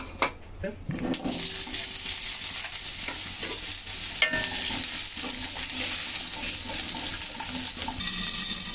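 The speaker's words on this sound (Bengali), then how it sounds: "এখন ওই তেলের ভিতরে আমি আলুগুলো ভেজে নেব" Potatoes dusted with a little turmeric fry in hot oil left from frying fish, giving a steady, loud, hissing sizzle that runs throughout with occasional clinks and stirring.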